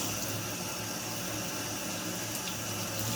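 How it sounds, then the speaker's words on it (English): Steady rush of running tap water as food is rinsed under it in a kitchen sink, continuous and close with a constant hiss and no speech. "give it a quick rinse"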